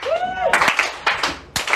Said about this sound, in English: So can you please join me in a slow clap?